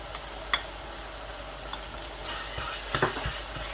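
Green chillies are stirred into keema frying with shimla mirch, giving a steady close sizzle broken by a few light scraping clicks from the spoon.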